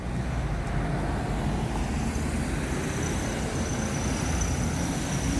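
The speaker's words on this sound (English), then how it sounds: "watch the traffic go by" Traffic rolls past on a road on a Saturday night in Henry County, Georgia, a steady broadband rumble of passing cars and trucks heard from the roadside, with no clear single pass standing out.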